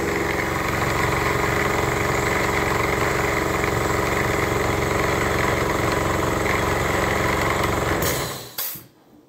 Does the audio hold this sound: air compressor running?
yes